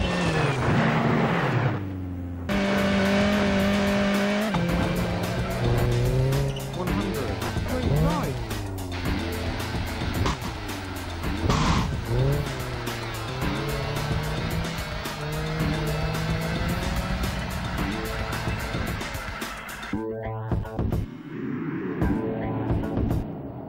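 A racing car in a video game speeds along a track, its engine revving and shifting up and down with tire squeals, while someone talks over the action throughout.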